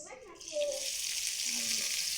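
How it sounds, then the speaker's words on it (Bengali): Chopped onion and garlic fry in hot oil in a wok, a soft continuous sizzle heard close but faint, with brief low murmuring tones partly under it. "পেঁয়াজ আর রসুন কুচিগুলো ভালোভাবে লাল লাল করে ভেজে নিব।"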